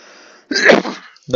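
One loud, sharp sneeze bursts out close by after a moment of quiet murmuring, followed immediately by the start of another sound.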